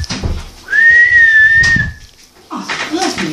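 A person whistles one long, clear, steady note lasting about a second, close and loud, with bits of speech and noise before and after.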